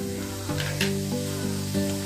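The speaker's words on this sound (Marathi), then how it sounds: "गॅस चालू करून कढईमध्ये तेल गरम करण्यासाठी ठेवलेलं आहे, तर त्याच्यामध्ये मी जिरं आहे ते घालते" Cumin seeds sizzle in hot oil in a kadhai on a gas stove, a soft steady crackle sitting beneath louder sustained background music.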